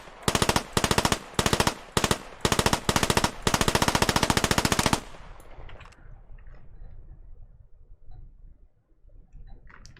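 An M7 SMG from a Halo mod for the Squad video game fires in rapid bursts, loud and close, several short strings of fast shots, then a long one, followed by quiet rustling.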